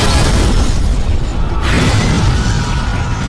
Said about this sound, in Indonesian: Dan seketika bom pun meledak.